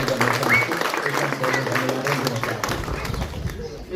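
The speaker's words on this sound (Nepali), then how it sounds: "एकचोटि सबैले यहाँ उपस्थित भएका सबैले एकचोटि जोरदार तालीका साथ हाम्रो मरमबालाई सम्मान" Audience applause at an award and honor ceremony, scattered clapping from a crowd mixed with voices and some rustling, rising toward the end.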